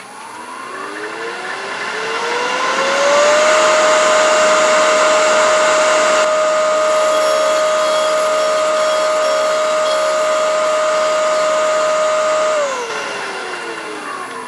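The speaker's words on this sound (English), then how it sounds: "I can both hear and feel when the cutter goes into the recess in the back because it'll quit cutting." A threading jig cutter cuts threads into wood, its motor whining up to a loud, steady high-pitched drone that holds for about ten seconds before winding down. No voices are present.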